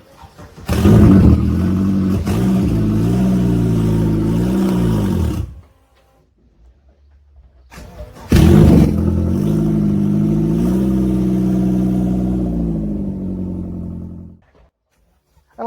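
A homemade 4x4 Vauxhall Nova driven for the first time, its engine roaring loud and close through two long revving runs separated by a quiet pause, with rising and falling pitch and no talking.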